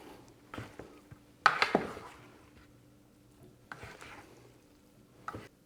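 Pasta salad of orzo, grilled shrimp and grilled vegetables being tossed with thin strips of pickled peppadew peppers, giving a few soft, wet stirring and scraping bursts with quiet pauses between them.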